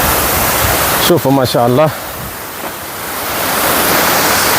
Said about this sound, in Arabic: الأنهار موجودة في كل مكان، شلالات